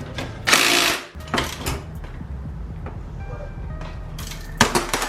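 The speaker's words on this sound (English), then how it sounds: "Now we'll put the nuts back on and tighten it down." Nuts are tightened onto a hydro bracket on a Honda Civic EF, a series of close mechanical ratcheting bursts and metallic clicks separated by short pauses, with a faint steady background hum.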